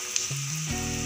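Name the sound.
egg chops frying in hot refined oil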